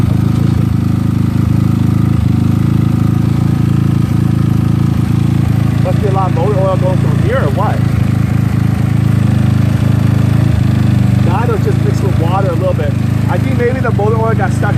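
GY6 scooter engine idling steadily, close and loud, with a constant low droning hum throughout as old oil residue burns off in the exhaust; someone talks intermittently over the running motor.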